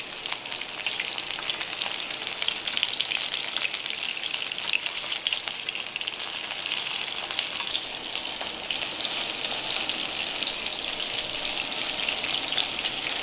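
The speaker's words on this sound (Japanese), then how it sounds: "大体これぐらいになってくると、皮目の方がきれいに焼き上がっていってると思います。" Chicken pieces grill skin-side down in a pan, giving off a steady, dense sizzle and crackle of frying fat that carries on evenly throughout, close and fairly loud, with no talking.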